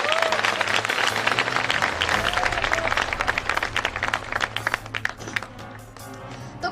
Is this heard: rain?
no